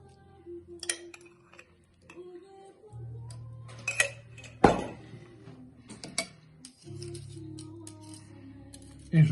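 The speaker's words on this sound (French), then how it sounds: "Et je mélange le tout avec pas mal de moutarde et je mélange avec du persil." Clinks and taps of a utensil against a dish as mashed eggs are stirred with mustard and parsley, scattered close knocks and scrapes with quiet gaps and a soft steady hum underneath, no voices.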